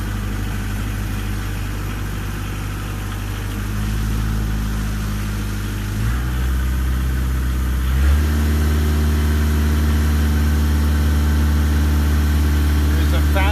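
The engine of a 2002 Vermeer SC50TX stump cutter runs loudly and continuously up close, with its pitch shifting down and then back up as the throttle changes partway through.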